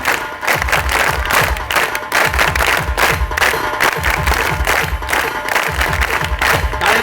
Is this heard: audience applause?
yes